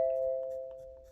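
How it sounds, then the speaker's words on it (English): A home doorbell chime sounds once, a single clear electronic tone that rings on and slowly fades, with faint scratching of a pencil on paper underneath. "Hang on, that was my doorbell."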